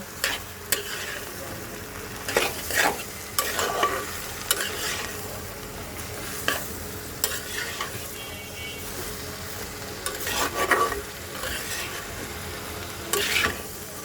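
Spiced tengra fish curry being stirred in a pan, repeated scraping strokes of a spatula at an irregular rhythm over a constant low sizzle, close and fairly loud.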